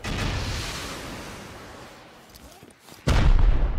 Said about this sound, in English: just start shooting rockets